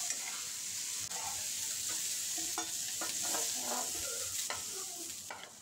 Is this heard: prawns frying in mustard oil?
yes